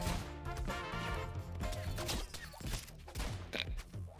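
Rapid video game gunfire and crashing effects burst in quick succession, loud and busy, layered over game music.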